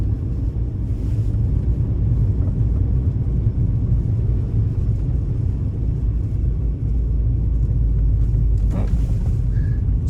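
A Mini Cooper with a newly installed clutch accelerates slightly while driving, giving a steady low engine and road rumble with wind noise inside the car throughout.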